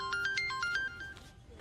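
A mobile phone ringtone for an incoming call plays a bright, quick electronic melody of rising tones, fairly close and clear, with no talking over it.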